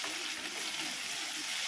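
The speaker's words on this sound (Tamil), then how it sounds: "கொஞ்சமாக கல் உப்பு போட்டு நல்லா இந்த தக்காளி நல்லா வதக்கி இருக்கலாங்க." Tomatoes with rock salt sautéing in a hot pan, a steady bright hiss of sizzling, close and continuous with no talk.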